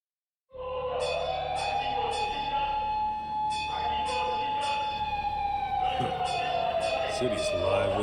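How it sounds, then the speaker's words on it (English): Wailing emergency sirens in a city in the video game Lost Judgment, a steady rising and falling tone that starts suddenly and holds throughout, with clanging bell-like hits and a voice talking over it. "There were certainly plenty of sirens."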